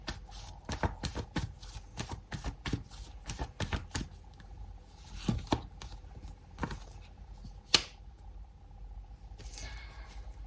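Tarot cards being shuffled and drawn, a run of crisp, close card snaps and riffles that come in quick clusters and then thin out into scattered, quiet flicks, with no talking.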